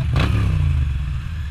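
A Moto Guzzi V9 motorcycle engine running close by, a deep, throbbing idle with a brief rev and clatter near the start before it settles back to a steady low beat.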